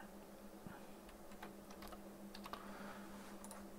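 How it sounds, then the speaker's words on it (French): Soft typing on a computer keyboard in a quiet room, with scattered light key clicks over a low steady hum and no talking. "je vais taper la même chose"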